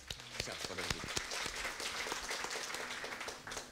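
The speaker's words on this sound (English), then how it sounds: "Let's give each other a round of applause." Scattered applause from a modest audience at a platform presentation, individual claps clearly separated and uneven, fairly faint, with a voice or murmur underneath.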